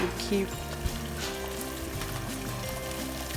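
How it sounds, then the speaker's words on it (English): Jollof rice base of tomato puree frying in oil in a pot, a soft continuous sizzle and crackle under a tonal hum, with occasional stirring knocks. "the oil is starting to gather on the surface, so it's frying nicely well, but it still needs some more frying"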